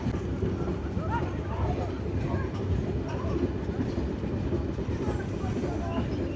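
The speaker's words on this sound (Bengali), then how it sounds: "এখন আমাদের ট্রেন এন্ট্রি করছে ভাঙা জংশনে।" A train on the Kolkata to Dhaka run rumbles steadily as it rolls into Bhanga junction, a constant low clatter heard from inside the carriage, with a voice speaking over it.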